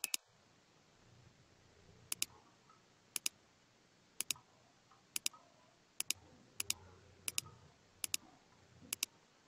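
A computer mouse clicks while scenes are built in the eWeLink smart-home app, with sharp, close clicks that often come in quick pairs and are spaced irregularly over a quiet background.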